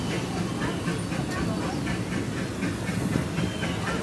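Steam train of the Disneyland Railroad rolling through the park past the Rivers of America, a steady loud rumble with rhythmic wheel clatter and hiss, continuous throughout.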